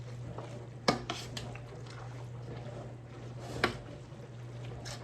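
Ground turkey, onions and garlic are stirred in a pot for homestyle cabbage roll soup, with a few sharp spoon knocks and soft scraping over a constant low hum, close and moderately quiet.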